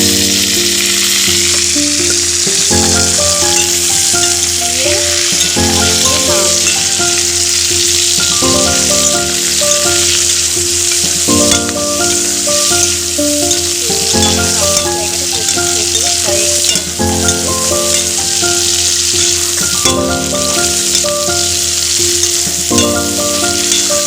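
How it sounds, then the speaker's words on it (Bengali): Onion, green chili and chopped tomato sizzle loudly in a pan for prawn curry, with stirring scrapes, under a continuous repeating background melody. "নেড়ে নেবো। পেঁয়াজটা ভাজা ভাজা হলে, টমেটোটা একটু ভেজে গেলে আদা রসুনটা দিয়ে দেবো।"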